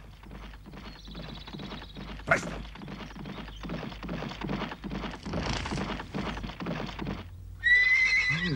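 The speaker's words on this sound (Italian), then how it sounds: "sono loro che vengono proprio ora a cavallo." Horses arrive carrying riders in a medieval fairy-tale setting: a steady clip-clop of hooves runs throughout, a single loud thump falls partway through, and a shrill neigh rings out near the end, with one brief shouted word.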